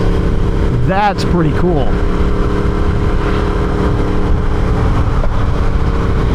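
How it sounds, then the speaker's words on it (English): Yamaha R1 motorcycle exhaust note rising and falling as the throttle is rolled on, loud and continuous engine roar with short revving sweeps, with someone speaking briefly over it. "you're rewarded for your noticeable hit with that exhaust note"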